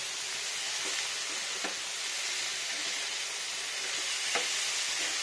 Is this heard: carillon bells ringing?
no